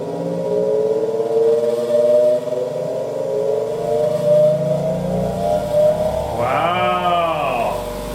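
A newly unboxed grinder switched on, its motor whine rising steadily in pitch as it winds up to speed, loud and close, ending in a brief wavering tone.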